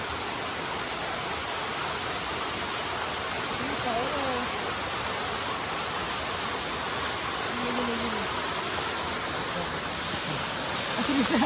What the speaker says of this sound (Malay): So, sekarang ni kami dah sampai dekat waterfall Sungai Ranting.